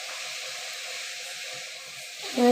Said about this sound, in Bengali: কড়াইয়ের মধ্যে আমি লাল শাকটা দিয়ে দিলাম, ধুয়ে বেছে নিয়ে ভালো করে দিয়ে দিলাম